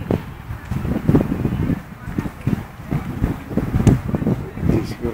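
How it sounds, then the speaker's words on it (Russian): Wind gusts rumbling across the microphone during an outdoor walk at the Moscow Kremlin, loud and buffeting throughout, with a voice talking in the background. "ветер дует"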